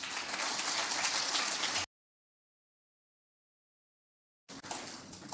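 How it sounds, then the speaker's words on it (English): Audience applause for firefighters at a fire service conference, a steady dense wash of clapping that breaks off into silence and then resumes loudly near the end. "Shall we clap for them?"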